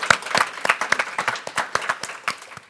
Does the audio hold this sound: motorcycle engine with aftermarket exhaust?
no